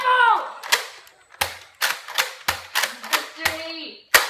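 Toy foam-dart guns fire in a kids' backyard game, with sharp pops coming in an irregular series of about eight close, loud snaps, broken by brief children's voices and shouts.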